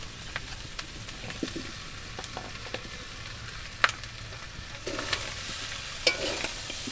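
Chicken leg pieces simmer in a pan as potatoes and water are added, a faint steady sizzle with occasional soft stirring clicks and a brief surge of bubbling near the end.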